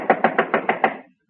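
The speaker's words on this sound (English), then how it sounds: "Thought I heard a knock." Six quick, evenly spaced knocks on a wooden door, close and fairly loud, followed by a brief silence.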